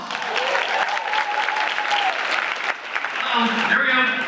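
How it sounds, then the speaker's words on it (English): An audience at a United Way campaign kickoff event applauds steadily, with a dense patter of clapping and a few cheers, while a voice talks over the crowd toward the end. "Y'all give her a round of applause."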